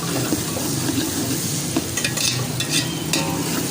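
Onions fry toward golden brown for a restaurant-style mixed vegetable dish, a loud, dense sizzle close by with scattered stirring scrapes and light spatter throughout.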